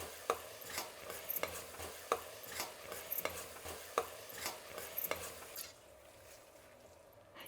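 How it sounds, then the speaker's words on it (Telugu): Ground masala paste for mushroom biryani fries on a low flame, with a quiet background sizzle and regular rhythmic spatula scrapes about every second that stop near the end, leaving a faint hiss. "కాబట్టి మంట సిమ్ములో పెట్టుకొని వేయించుకుంటున్నాము"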